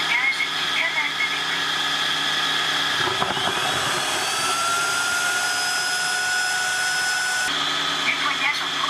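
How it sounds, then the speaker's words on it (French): A Tineco Floor One S3 cordless wet-dry floor washer runs its automatic self-cleaning cycle: a steady, loud motor whine with a tonal hum that shifts character partway through and then settles back. "On appuie sur le bouton de nettoyage automatique. Démarrer le nettoyage automatique."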